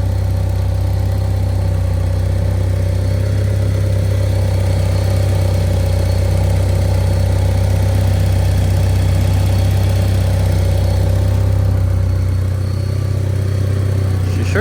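An Eclipse car engine idling after a cold start at 5°F, a steady loud low rumble with constant droning hum, running evenly and close for the whole stretch.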